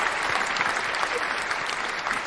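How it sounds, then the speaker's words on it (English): Dense, steady applause from a crowd answering a call to clap on a football-talk livestream, a continuous wash of clapping with no talk over it. "Let's give you a round of applause."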